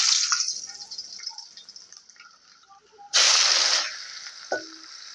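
Onions and spices hitting hot soybean oil in a wok for a Bengali fish curry, a loud sudden sizzle bursting up midway over quieter crackling and a few clinks, close by with no talking.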